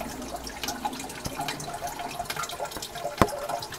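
A garden pond filter for a red-eared slider turtle pond, with water flowing through a foam rubber pad: a steady, close trickle and splash with a few sharper drips, no voices.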